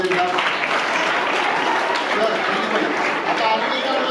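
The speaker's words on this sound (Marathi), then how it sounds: "या मुलासाठी पण जोरदार टाळ्या वाजवू द्या." An audience at a high school youth day event bursts into vigorous applause, a dense, continuous clapping that stays loud for the whole few seconds.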